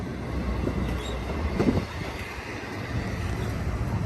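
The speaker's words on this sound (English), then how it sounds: "Dang, these are long trains." Mega-long freight trains roll past each other at Verdemont, a continuous close rumble of wheels and cars with a brief screech of squealing wheels midway.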